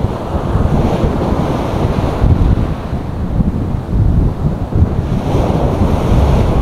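Surf rolls and breaks continuously on a sunny Skegness beach, a loud, full wash of waves with strong wind buffeting the microphone throughout.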